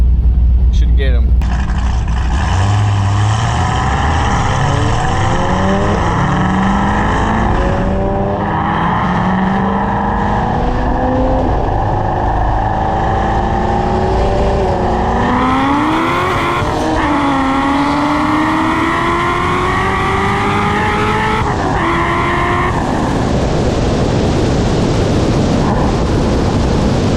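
An 850 whp Corvette C6 Z06 launches in a roll race, its loud V8 revving up in repeated rising surges while the tires spin for traction. A voice talks over the engine at times.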